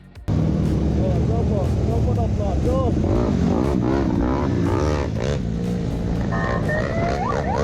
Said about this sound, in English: check out this clip of a motorcyclist fleeing from the cops